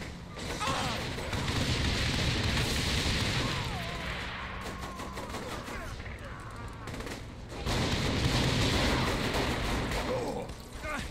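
A chaotic firefight in Saints Row: The Third, with grenades flying: dense, continuous gunfire and booming blasts in two loud surges, and a voice now and then within the din.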